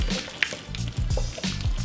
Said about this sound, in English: Now I just have to pour all this out,